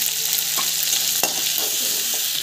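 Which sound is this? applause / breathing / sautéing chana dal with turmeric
sautéing chana dal with turmeric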